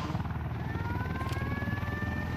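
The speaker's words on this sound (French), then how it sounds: "Ah merde, il y a un autre hélico" A helicopter in the video game Ghost Recon Wildlands thrums steadily with a rapid rotor pulse and a whining engine tone, holding a constant moderate level throughout.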